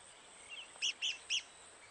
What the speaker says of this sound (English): The rare red cockaded woodpecker lives in this loblolly pine.